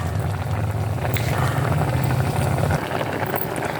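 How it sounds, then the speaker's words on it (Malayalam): A pot of pineapple pachadi with pumpkin, plantain, turmeric and rock salt comes to a boil, giving a steady close bubbling roar with a low churning layer that eases off near the end, no voices. "തിളച്ചു തുടങ്ങി."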